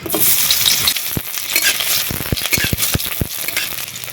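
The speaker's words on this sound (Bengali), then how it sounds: "তেল গরম হয়ে গেছে দিয়ে দিচ্ছি পেঁয়াজ কুচি" Chopped onion hits hot mustard oil in a pan, starting with a loud burst of sizzling, then settling into steady frying with a series of sharp stirring clatters and spatters, with no voices.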